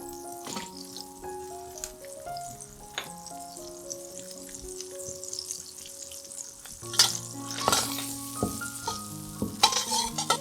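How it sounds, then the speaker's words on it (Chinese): Lemongrass and curry leaves stir-fried in melted vegan butter for a Malaysian-style oyster mushroom dish, with a steady sizzle and scraping stirs. Clearer bursts of stirring and clatter come near the end, and there is no talk. "将纯素奶油煮至融化， 放入香茅和咖喱叶炒香，"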